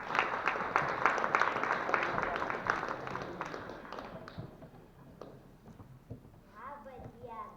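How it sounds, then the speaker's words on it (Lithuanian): An audience at a regional folk storytelling contest gives warm applause to welcome a young storyteller, dense clapping that fades out after about four seconds, followed by a few quiet knocks and then a voice beginning to speak. "šiltais aplodismentais pasitikime pasakotoją"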